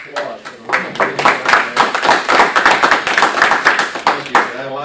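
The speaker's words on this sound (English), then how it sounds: "give Dave a round of applause" A small group claps for a few seconds at a meeting, a dense patter of close hand claps that swells and then holds steady.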